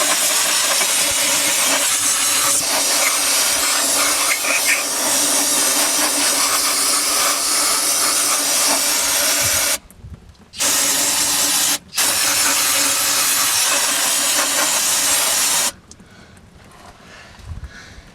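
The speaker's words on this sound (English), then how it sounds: "I'm gonna kind of clean it out here with some brake cleaner." Brake cleaner sprayed from an aerosol can into an open rear differential, a loud, continuous hiss that runs for long stretches, stopping briefly twice before a final release.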